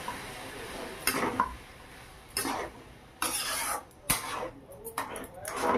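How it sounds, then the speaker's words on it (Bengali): A spoon scraping and clanking in a pan while fig, potato and eggplant curry is stirred and sautéed, in several separate bursts of metallic scraping with quiet gaps between them. "বেশ কিছুক্ষণ ধরে এইভাবে কষিয়ে নেব।"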